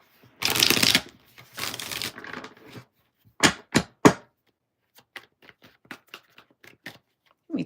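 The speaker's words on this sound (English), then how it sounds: "It's telling me to re-riffle shuffle." Tarot cards being riffle shuffled by hand, two long close riffles, then sharp taps and bridging clicks, followed by scattered soft card handling sounds.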